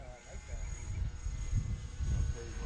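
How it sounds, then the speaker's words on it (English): A foamboard RC airplane with a modified wing flies over a field in Connecticut, its motor a steady droning buzz heard from a distance, fairly faint and continuous under light background noise. "It's been a while since I've flown this plane."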